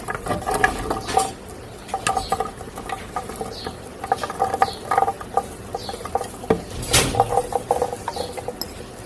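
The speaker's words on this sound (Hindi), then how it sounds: "अब हम इसे ग्राइंडर्स में डाल के ग्राइंड कर लेंगे" An electric grinder churns falsa berries with sugar and lemon juice, a rattling, patting whir with irregular clicks and bursts, close and steady, no talk.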